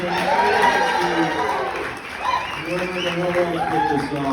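A comedy audience at a preschool fundraiser applauds and cheers for a departing comic, clapping mixed with chatter and chuckles while a host speaks over it.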